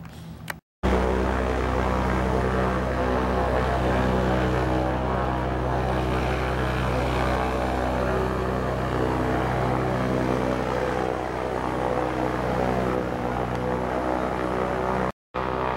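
The propeller engines of a Ford Tri-Motor airplane drone loudly and continuously from inside the cockpit near Redding, California, with two brief dropouts and no talking.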